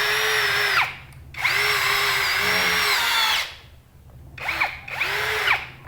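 An APR power drill, a year into regular use, whines loudly in two long bursts, winding down between them and ending with a few shorter revving pulses.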